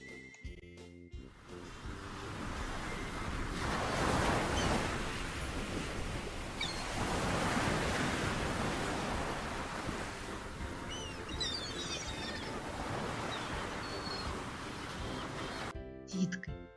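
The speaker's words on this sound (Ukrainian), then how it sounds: "А давайте зараз ми з вами послухаємо шум моря." Sea waves roll in and out in slow surges, a soft rushing wash rising and falling, with faint bird calls in the background.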